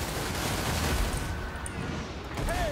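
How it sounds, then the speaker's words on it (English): Crossbowmen loose a volley in Total War: Warhammer, a dense burst of battle noise and distant booming impacts over a continuous din, with a faint voice briefly beneath. "use every one of our crossbowmen to shoot this guy"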